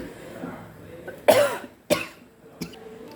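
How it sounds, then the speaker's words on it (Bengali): A person coughs three times at close range, two sharp loud coughs followed by a softer third, with a quiet kitchen in the background. "কাশিটা অনেক বাড়ছে।"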